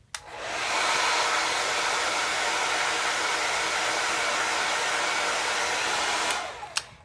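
A hair dryer set to low heat and low speed blows steadily for about six seconds, a loud, even rush of air up close, then clicks off.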